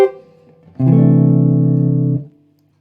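A short jazz swing ending played as double stops, one brief pluck followed by a sustained two-note chord that rings for over a second and then stops cleanly, close and alone.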